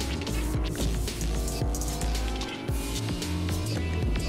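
A car driven in an arena video game, its engine droning steadily with rising and falling revs and a hint of tire squeal, loud and close throughout with no talk over it.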